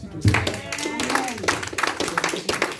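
A church congregation clapping and applauding, a brisk burst of many hands mixed with voices and cheering, close and lively, with speech running underneath.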